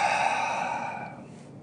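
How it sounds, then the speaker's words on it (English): A person draws a deep breath in, a single long airy inhalation heard close and fairly loud, fading toward the end, with no words spoken. "Take a deep breath in with me real quick."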